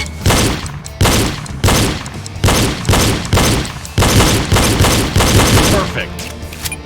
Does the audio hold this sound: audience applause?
no